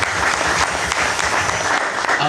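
A church congregation applauds, a dense steady clapping from many hands filling the room, with voices mixed in under the noise.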